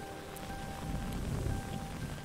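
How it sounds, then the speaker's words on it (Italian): Steady rain falling while a character walks outdoors in the video game The Suicide of Rachel Foster, a soft, even hiss with a low rumble underneath and no voices. "si sta camminando sotto la pioggia"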